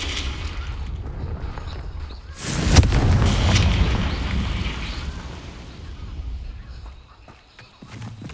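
A Confringo blasting spell in Hogwarts Legacy, a sudden loud explosive burst that rumbles and fades over a couple of seconds, with softer game sounds and speech around it.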